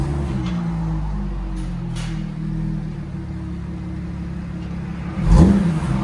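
An Audi A7 3.0 turbo quattro V6 exhaust drones steadily at close range and then gives one short, loud rev near the end, with no talking.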